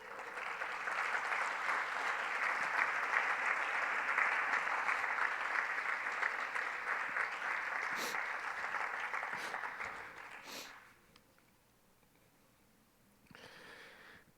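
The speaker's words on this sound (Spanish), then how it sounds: "puedes aplaudirle ahora" A church congregation applauding during a sermon, a broad sustained wash of clapping from many hands that fades out after about ten seconds, followed by a short faint patter later.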